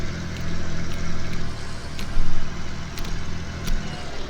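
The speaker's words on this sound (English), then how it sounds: "So I'll just park up the tractor now." Tractor engine in Farming Simulator 19 running steadily through a parking manoeuvre, a low droning hum with slight swells in revs and a brief louder surge midway, heard alone without talk.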